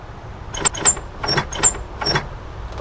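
A chair is dragged and shoved around in the video game Hello Neighbor, giving a series of short scraping, grinding bursts in an irregular rhythm, fairly loud and close, with no speech over them.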